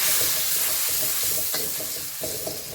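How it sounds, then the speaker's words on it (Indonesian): Red yeast rice (angkak) stir-fried with ginger in a pan, a close sizzling hiss with spatula scrapes and stirring clinks, loud at first and easing slightly, with no voices. "Jadi angkanya ditumis sebentar bersama jahe"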